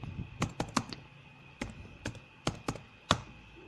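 Typing on a computer keyboard, with a series of crisp, irregular key taps in short bursts, close and fairly quiet over a faint steady hum, with no one talking.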